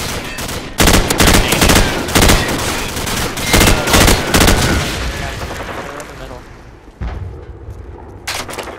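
Rapid gunfire in a first-person shooter team deathmatch, loud close bursts at a regular rhythm that thin out later, with scattered shots afterward and a voice talking underneath.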